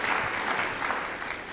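A short burst of steady audience applause at a city council at-large candidate forum, dense and fairly close, without speech.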